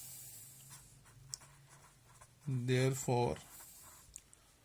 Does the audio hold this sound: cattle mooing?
no